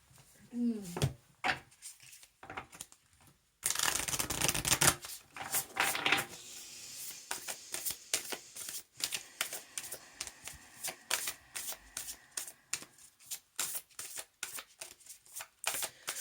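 A Starseed Oracle card deck by Rebecca Campbell is shuffled by hand, a rapid run of crisp riffling flutters followed by many short, rhythmic card taps and slides, close and clear, with a voice briefly heard at the start.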